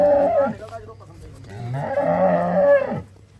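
Two long, loud moos from a freshly calved dairy cow near a Punjab cattle sale, the first short and the second drawn out, close to the microphone with no talk over them.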